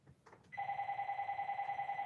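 A telephone rings with a steady electronic bell tone, starting after a brief faint noise and continuing loud and unbroken for over a second and a half, with no talking.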